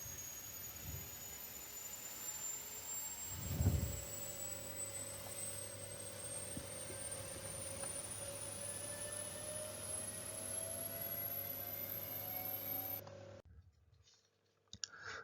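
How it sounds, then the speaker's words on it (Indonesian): Rover 1S/60 gas turbine running in a laboratory test, a steady faint whine with a slowly climbing high tone over a low hum, a couple of brief knocks early on, and the sound dropping away at the end. "ini adalah cuplikan video pengambilan data dari pengujian turbin gas yang akan Anda pelajari pada segmen kedua nanti"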